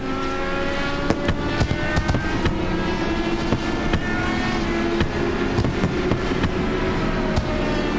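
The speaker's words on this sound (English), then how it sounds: "as the fireworks go off in the literal sense, not just the figurative one now" Fireworks crackle and pop with scattered sharp bursts through a constant loud roar at a speedway race in Iowa, the sound of engines and crowd blending in the background.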